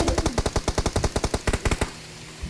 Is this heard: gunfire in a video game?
yes